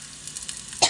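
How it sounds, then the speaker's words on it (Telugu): Curry leaves drop into hot oil, a brief close sizzle that bursts into a sharp loud crackle at the end. "అందులోనే కొంచెం కరివేపాకు వేసుకుందామండి."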